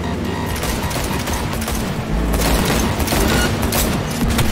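Sustained rapid gunfire in the video game Cyberpunk 2077 during a vehicle chase, loud and dense, with booming impacts and mechanical clatter mixed in throughout.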